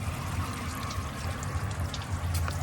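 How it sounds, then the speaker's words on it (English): Clean water runs steadily from a heater hose on a 1999-2006 Chevrolet Silverado, a continuous close trickle and splash with no talking. "We got good clean water coming out of it."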